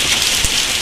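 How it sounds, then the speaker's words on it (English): Hail pelts down hard during a summer hailstorm in Boston, a dense, loud, continuous clatter of stones striking the ground and nearby surfaces, with no voices. "freaking hailing out!"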